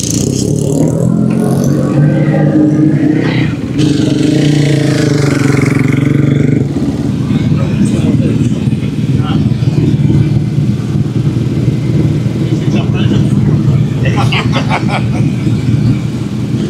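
Dakar 2025 rally cars and motorcycles lined up at the start, engines idling and revving loudly and continuously in a dense, overlapping roar, with occasional sharper throttle blips rising above the steady rumble.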